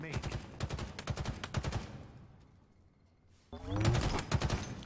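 Three-round burst rifle fire in Halo Infinite sounds in rapid, sharp clusters of shots, a quiet gap, then another volley of close, punchy bursts layered with game effects.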